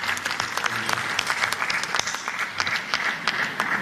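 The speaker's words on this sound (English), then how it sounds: "Maybe a round of applause for the audience." An audience applauds at the close of a panel at a Tanzania–Uganda oil and gas symposium, dense continuous clapping from a full room, steady and fairly loud throughout.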